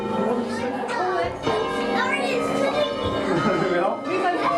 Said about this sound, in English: We'll get your bells ringing.